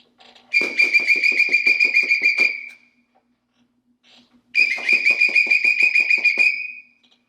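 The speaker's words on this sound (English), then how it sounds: "blow your whistle in a light, fast motion" A judge's whistle blows twice in quick, trilling blasts, each lasting about two seconds with a rapid fluttering pulse, loud and close with a brief silence between them, signalling a competitor leaving the ring.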